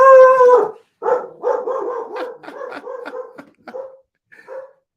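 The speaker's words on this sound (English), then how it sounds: "That's my dog in the background." A dog gives a long howl, then a run of loud, close barks that taper into a few shorter yips with gaps between them, and no one speaks.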